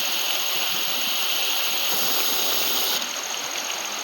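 Water gushes steadily from a tractor-driven pump into a farm well beside a wheat field, a loud, continuous broadband rush that holds unbroken throughout.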